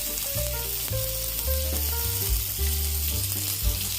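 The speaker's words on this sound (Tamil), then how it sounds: "காயை ஒன்றா எடுத்து இந்த கடாயில் உள்ளே வச்சு நம்ம இன்னும் கொஞ்சம் எண்ணெய் சேர்த்து வதக்கணும்" Stuffed brinjals sauté in extra oil in a kadai for ennai kathirikai kuzhambu, a loud continuous close sizzle with occasional shifting stir sounds, no voices.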